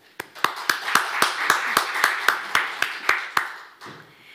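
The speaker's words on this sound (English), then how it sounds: "let's give a warm applause to all the musicians that are with us here today" A small audience at a lecture on flamenco and Carnatic music claps for the musicians, about fourteen distinct, fairly loud claps in a steady rhythm, close by and sparse, fading out near the end.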